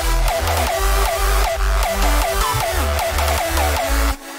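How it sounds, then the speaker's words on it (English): A hardstyle kick drum pattern programmed in FL Studio pounds in a fast, steady four-on-the-floor rhythm, each loud distorted thump carrying a pitched tail, ending abruptly. "So let's say I have a kick ready right here."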